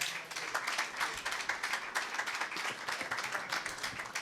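A congregation at a gospel church service claps in soft, rapid, continuous applause, heard fairly faint and distant.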